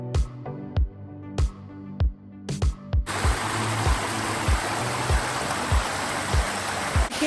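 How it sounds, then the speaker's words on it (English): A small waterfall at Great Seal State Park rushes in a steady, broadband roar that begins abruptly partway through, while regular sharp knocks repeat throughout. "Came across this little waterfall"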